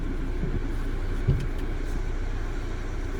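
A 2016 Volvo XC90 T6 AWD with a turbocharged and supercharged 2-liter four-cylinder, a low steady engine and road drone heard from inside the cabin, with a faint knock partway through.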